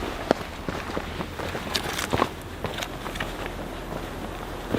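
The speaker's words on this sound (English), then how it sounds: "I'm hearing footsteps again." Footsteps on a forest hiking trail, a series of soft irregular crunches and patters at moderate distance, with no talking.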